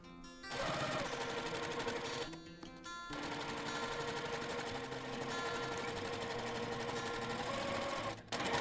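A sewing machine stitches around the curve of a boho bag, running in a fast steady chatter with short stops for a back stitch, close and loud.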